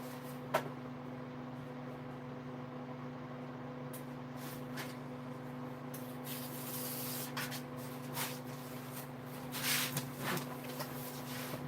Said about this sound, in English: I use my 42-inch belt grinder sander to sharpen